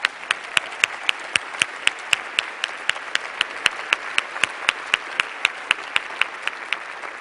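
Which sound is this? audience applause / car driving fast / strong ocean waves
audience applause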